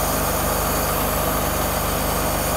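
A rebuilt Mercedes W126 300SEL with an AXM 8305B engine, a US-spec car, idling steadily after a full rebuild, a loud close continuous low hum and fine rhythmic pulsing with no voices.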